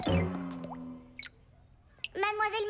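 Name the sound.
dripping faucet leaking water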